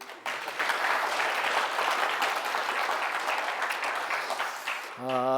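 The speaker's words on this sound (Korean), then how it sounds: "박수 한번 주세요" Audience at a talk on small business cooperatives bursts into applause, a full, steady clatter of many hands after a brief quiet start, cut off near the end as a voice begins.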